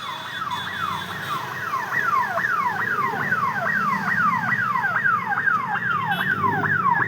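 An ambulance siren wails on the road ahead near a petrol pump, its rapid rising-and-falling sweeps repeating steadily and loudly with no talk over it.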